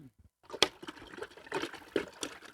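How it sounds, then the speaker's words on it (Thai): Water is poured into a plastic bucket in uneven splashes and gurgles, a few louder bursts standing out from quieter trickles, heard close with no voices. "ก็เทน้ำลงไปก่อนนะครับ"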